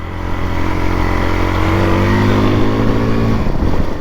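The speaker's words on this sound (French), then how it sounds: "Voilà, c'est fait, j'ai roulé dans la neige." A Suzuki DR-Z 400 trail motorcycle rides through snow, its engine a loud, steady, close droning hum that holds an even pitch throughout, with no voices.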